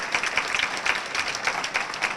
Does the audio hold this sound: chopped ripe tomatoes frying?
no